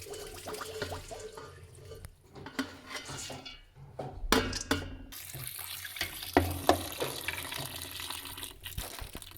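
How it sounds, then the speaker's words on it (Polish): Water runs from a kitchen tap into a sink while a sauce is being cooked, a steady splashing flow broken by clinks of pots and cutlery, with no talking. "Wypuści trochę wody, żebyśmy nie mieli zbyt wodniste nasze sos."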